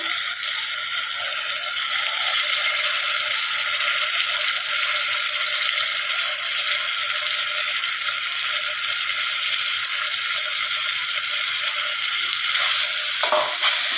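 Washed rice tipped into a pan of spiced masale bhaat and stirred: a loud, continuous frying hiss with faint scraping of the spoon, and no voices.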